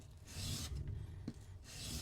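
A sloyd knife's bevel is worked across a sharpening kit, giving two or three close, faint, raspy scraping strokes with short pauses between them.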